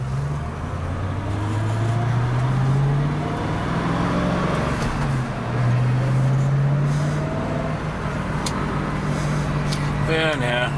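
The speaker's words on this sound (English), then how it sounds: "jumping off the freeway here, on my way to the Woodburn drag strip." A 1966 Ford Mustang with a TKX gearbox exits a freeway, heard from inside as a loud, steady engine and road drone whose pitch slides down and rises again, ending with a brief rattle.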